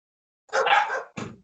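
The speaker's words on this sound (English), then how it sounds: "That's my dogs, by the way." Dogs barking indoors at home, one longer bark followed by a shorter second one, fairly close and with no talking over them.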